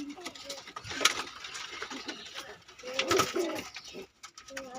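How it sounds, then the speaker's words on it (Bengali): Pigeons at a pigeon farm, among them a Madras pigeon, give soft low coos and rustles close by, with a faint voice and other quiet background noises. "এটা বলছে ম্যাড্রাস পায়রা"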